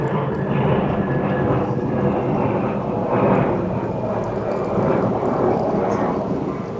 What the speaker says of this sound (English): Let me just have this airplane pass here.